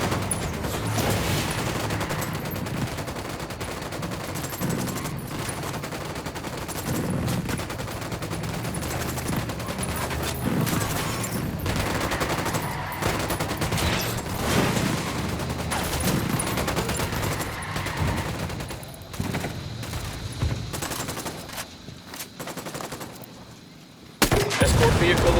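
Sustained gunfire from Ghost Recon Wildlands fills the scene, dense bursts of automatic shots and scattered single cracks rolling on loudly for most of the stretch, with brief radio-style voices under the shooting before a sharp drop near the end.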